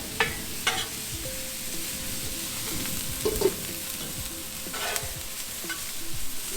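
Sliced vegetables for a chicken cheesesteak fry and brown in a hot pan, a continuous close sizzle broken by intermittent scrapes and knocks of stirring.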